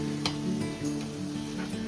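Ground spinach paste hits a hot pan and sizzles, a dense steady hiss with stirring scrapes and a few light utensil ticks, close and fairly loud, with no talking.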